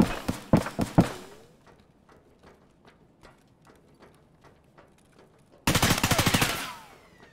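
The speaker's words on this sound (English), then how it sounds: "Put some shots on him." Gunfire in the tactical shooter Escape from Tarkov on the Customs map: a rapid cluster of loud shots opens, scattered faint distant shots and footsteps follow, then a long sustained burst of automatic fire closes.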